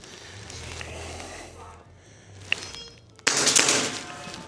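Tokyo Marui USP Compact airsoft pistol firing on a shooting course, giving one sharp near snap midway and a louder burst of cracks near the end over steady background noise.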